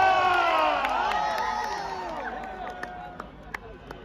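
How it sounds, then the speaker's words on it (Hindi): A large crowd at a live Salman Khan stage show in Riyadh cheers and shouts in a loud, dense roar that slowly fades, with a few scattered claps near the end. "जोरदार तालियां फॉर सलमान खान।"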